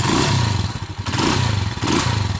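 A motorcycle engine idles close by with an even, steady low rumble and a faint rhythmic pulse, no talking.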